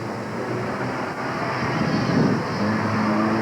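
A turbocharged 2.3-liter four-cylinder Ford Mustang runs an autocross course at the 1988 Canadian Solo 2 Nationals, its engine a steady, fairly distant roar blended with wind noise.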